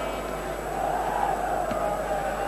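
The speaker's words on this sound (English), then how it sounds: "a good crowd have assembled here at Headingley Leeds" Murmuring crowd noise at a rugby league cup semi-final at Headingley, Leeds, in 1983, held as a steady broadband hum with no clear cheers or chants.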